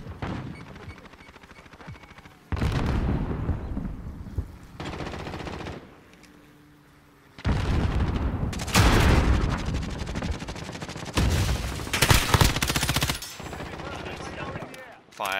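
Machine gun fire in Modern Warfare comes in loud, sustained bursts of rapid shots, separated by brief quieter gaps, with a voice talking faintly at the start.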